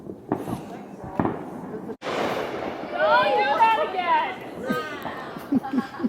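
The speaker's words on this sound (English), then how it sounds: "They're still doing those fireworks over at Rose Lake." Fireworks burst over a lake in a string of sharp booms and crackles from across the water, with people chatting nearby throughout.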